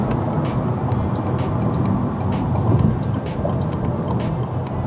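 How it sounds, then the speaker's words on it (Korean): Volkswagen Arteon R-Line with 4Motion all-wheel drive accelerating to overtake on a highway, heard from inside as a steady loud wash of engine, road and wind noise that swells slightly midway. "한번 추월 가속을 해보면서 간단하게 한번 살펴보겠습니다"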